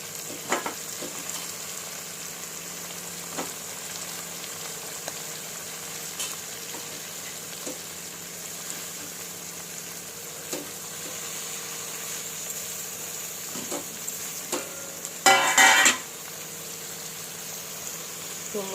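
Prawns and chopped gongura leaves frying in a pan for royyala curry, a steady sizzle with occasional scraping stirs and a louder clatter near the end.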